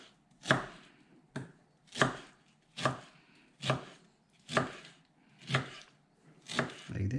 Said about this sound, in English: you just slice it in small pieces